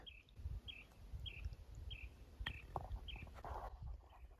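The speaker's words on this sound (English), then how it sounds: "What a cool sound, cool bird sound." A desert bird repeats a short, thin call at a steady rhythm roughly every half second, faint and distant over quiet low rustling and ambient hiss.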